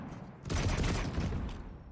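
A rapid burst of video-game gunfire aimed at a totem perched on top of a pillar, a dense rattling volley lasting over a second, loud and close, with no speech over it.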